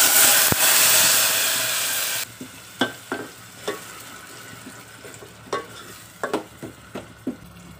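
A blended spice paste is dropped into hot oil in a pan, opening with a loud, dense sizzle that quickly settles into quieter frying, broken by a series of sharp scrapes and stirs.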